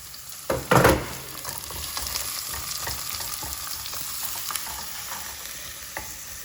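Chopped onion, garlic and green chili sauté in a hot pan, a continuous close sizzle broken by a couple of loud scraping stirs near the start and lighter stirring taps afterward, no voices.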